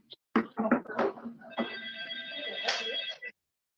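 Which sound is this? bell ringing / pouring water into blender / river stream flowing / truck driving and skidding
bell ringing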